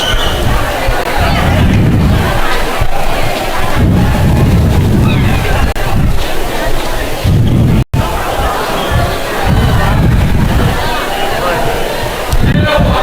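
A crowd at a college volleyball rivalry match between the Cardinals and Frederick fills an arena with dense, loud babble and cheering that swells in waves, with brief pauses and voices under it.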